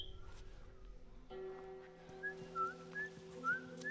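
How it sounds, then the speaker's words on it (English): A character in The Last of Us video game whistles a simple tune, a string of short, bright rising notes over a low steady background hum, soft and without talk. "I'm whistling!"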